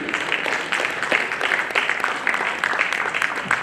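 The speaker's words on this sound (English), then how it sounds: "So I think we should have a big round of applause for him." Audience applause at a tech convention, honouring a speaker's record; steady, fairly distant clapping from a large crowd fills the whole stretch without a break, with no voices rising above it.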